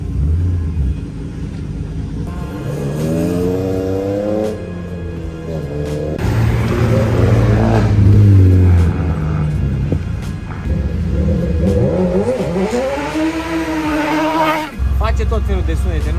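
A rally car rolls slowly over a wet, uneven road during Super Rally Bucuresti 2022, its engine rumbling low and steady inside the cabin while the driver talks over it almost continuously.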